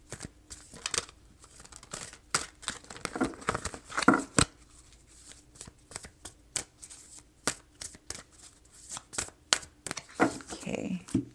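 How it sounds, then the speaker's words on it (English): Tarot cards being handled, shuffled and slid back into the deck, soft papery flicks and rustles in irregular bursts, close and fairly quiet, with a voice speaking intermittently over them. "There's too many cards. I'm going to put them back in."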